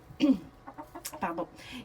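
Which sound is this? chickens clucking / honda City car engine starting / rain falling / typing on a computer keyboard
chickens clucking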